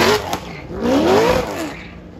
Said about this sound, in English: the 2017 Subaru BRZ pegging an LS7